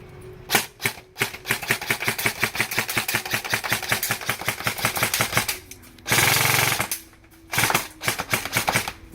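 An airsoft AEG electric gun fires BBs in rapid full-auto bursts, a sharp mechanical rattle repeating close and loud, broken by brief pauses and a short burst of hissing noise.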